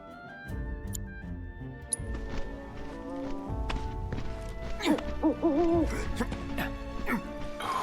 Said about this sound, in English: This bird going fucking ape shit.